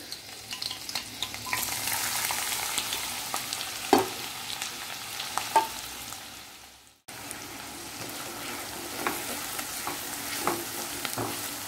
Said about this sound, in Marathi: एक ते 2 मिनिटं चांगलं परतून घेऊया आपण